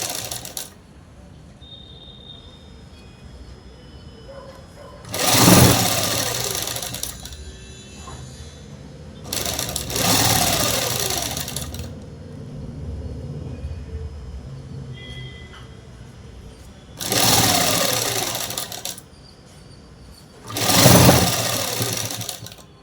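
A sewing machine runs in four short bursts, each a few seconds of rapid mechanical whirring, while a folded shirt hem is stitched, with quiet room sound in the pauses between bursts.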